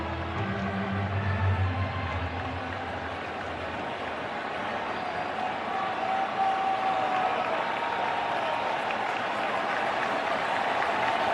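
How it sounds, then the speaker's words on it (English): Cheering of a large baseball crowd at Atlanta during Game 4 of the 2021 World Series against the Astros, a steady, dense roar that swells slightly and holds without a break, with no voices standing out. "Crowd jumps back in it."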